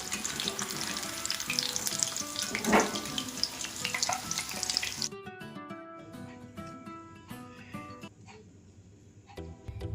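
Chicken pieces for chili chicken fry in hot oil with a loud, dense crackling sizzle for about five seconds. The frying then thins to a quieter sputter broken by scattered pops.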